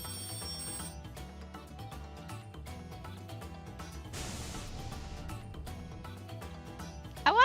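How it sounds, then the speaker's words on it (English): In a video game, a bell rung to summon an Axis train gives a brief bright ring at the very end, following several seconds of steady background music. "if I ring this bell here, an Axis train will come to pick us up."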